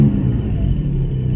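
A Porsche Cayman GT4 engine rumbles in a steady, loud, close drone with a deep low-end throb and no talking.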